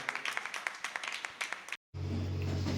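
An audience at a New Year special pattimandram debate claps to welcome a speaker, a fairly faint run of steady, scattered hand claps that cuts off abruptly into a low, continuous hum.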